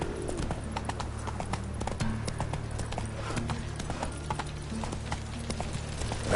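Roach, the horse in The Witcher: Wild Hunt, trots with a steady run of crisp hoof clip-clops at moderate distance, the even rhythm continuing for several seconds over a quiet game ambience.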